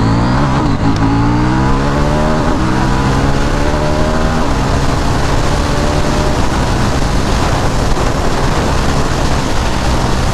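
A KTM Duke 790 motorcycle engine revs hard and loud up close, the pitch climbing in repeated sweeps before settling into a sustained roaring drone.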